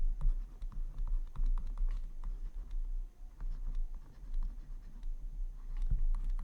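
A pen writing on a board while an integral is worked out, giving faint, irregular scratchy strokes and light taps over a steady low room hum, with no talking.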